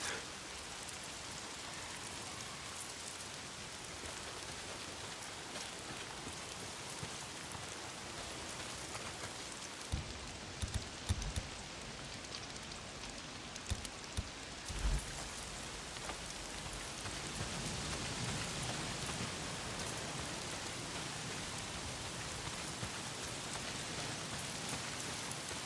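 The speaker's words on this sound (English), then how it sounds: "Why is it always raining?" Heavy rain pours down in the video game Days Gone, a dense, constant hiss with a few scattered louder impacts midway, no voices present.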